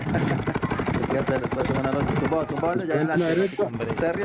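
Rapid gunfire from a shooter video game crackles in dense bursts, mixed with a voice talking excitedly in Spanish over the shooting.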